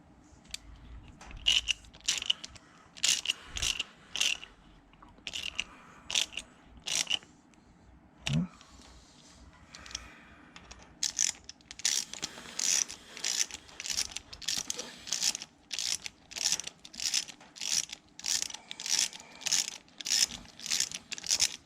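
Pulley bolts are tightened with a ratchet during a ProCharger supercharger install on a 2012 Hemi Ram 1500, with crisp close clicking in short rhythmic runs, pausing between bolts and then speeding into a steady series.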